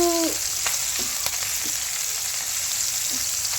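Small fish frying with raw tomato and potato in a village-style dish hiss in a loud, constant sizzle, with a few soft knocks as a wooden spatula stirs them apart.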